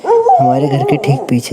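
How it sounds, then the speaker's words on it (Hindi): Several dogs bark and yelp from around houses in a village, with grass being cut for cattle nearby. Someone talks loudly over the barking throughout. "भाई साहब ये कुत्ते इतने भौंक रहे हैं"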